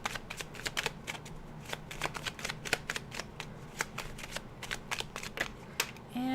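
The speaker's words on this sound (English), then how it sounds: "I'm going to pull 3 cards." Tarot cards handled and pulled from a deck, giving a quick run of crisp, papery flicks and snaps close by, alone with no talk.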